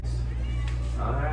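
A cat meows close by over a steady low hum, a short drawn-out cry with no one talking.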